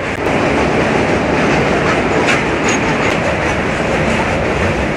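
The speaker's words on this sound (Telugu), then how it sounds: "మన ట్రైన్ అయితేనండి గోదావరి బ్రిడ్జ్ అయితే క్రాస్ చేస్తుందండి." The Swarna Jayanti Express crosses the Godavari bridge near Rajahmundry, heard from on board as a loud, steady rumble of wheels and carriages with faint clicks running throughout.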